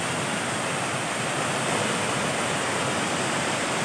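Chothikayam waterfall at Kadanad in Kottayam roars as a constant, full rush of falling water, loud and nearby, steady throughout with nothing else audible.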